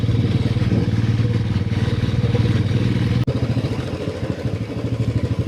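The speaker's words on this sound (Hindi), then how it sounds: "तो बाइक स्पीड पकड़ती है, रोड खराब हो जाती है।" A motorcycle rides a rough, broken mountain road toward Dharchula, its engine chugging loud and close with a rhythmic pulsing throb, the bike rattling over bumps, one brief dropout midway.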